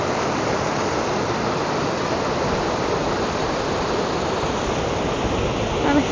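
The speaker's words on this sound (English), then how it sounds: "And the waterfall from above." Close and loud, the waterfall at a mill pond on a hydroelectric mill property roars in a dense, constant wash of rushing water, with no voices over it.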